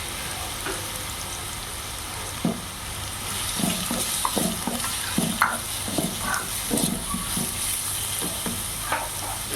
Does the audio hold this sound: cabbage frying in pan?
yes